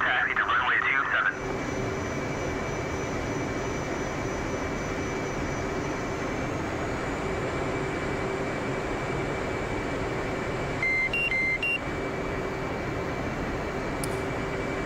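Small aircraft taxiing toward the runway, a steady close engine drone with a constant whine in the cabin, briefly broken by radio beeps and a burst of radio chatter at the start.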